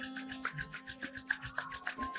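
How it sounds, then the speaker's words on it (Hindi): Palms rubbed briskly together during a morning yoga and breathing routine, a steady run of quick close swishing strokes with a faint tone sustained underneath. "हथेलियों को आपस में रगड़ेंगे।"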